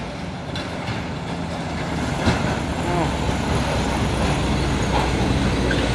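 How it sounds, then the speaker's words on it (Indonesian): Loud, continuous low rumble of a trailer truck climbing uphill nearby, building slightly as it draws closer, with a person talking faintly beneath the engine noise. "Ini lagi nih truk trailer pemain Super Grid dan Booster"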